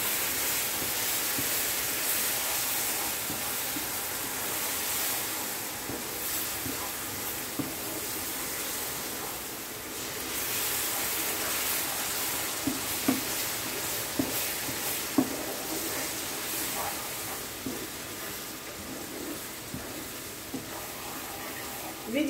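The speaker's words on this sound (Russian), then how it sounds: "Теперь добавляем сироп" Syrup poured little by little into thick, mushy Azerbaijani nut halva sizzling in a pan gives a steady hiss and bubbling, with scattered small pops and scrapes over a continuous frying wash.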